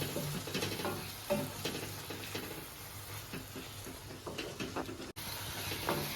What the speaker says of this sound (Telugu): ఒకసారి ఇలా బాగా కలుపుకోవాలి